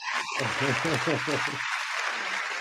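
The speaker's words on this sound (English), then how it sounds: "I need some applause here" Applause from a crowd fills the clip, steady clapping under a voice speaking briefly in the first half.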